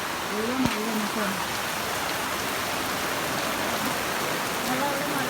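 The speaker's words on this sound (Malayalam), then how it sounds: "നല്ല മഴ നല്ല മഴയുണ്ട് കേട്ടോ." Heavy rain pours steadily in a dense, even hiss of drops on surfaces, continuous and close, with a brief snippet of a voice near the start and end.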